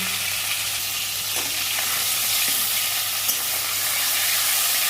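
Fish fries in hot oil with a loud, dense, continuous sizzle and crackle, heard close up for the whole stretch with no talking.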